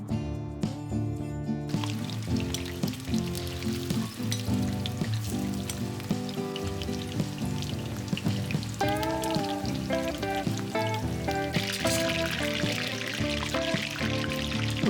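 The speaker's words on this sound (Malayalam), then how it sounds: "ഇനി സെക്കൻഡ് ബാച്ച് കൂടി നമുക്ക് വറുത്തെടുക്കാം" A second batch of mushrooms deep-fries in hot oil, a steady crackling sizzle and spatter that runs throughout the clip beneath background music.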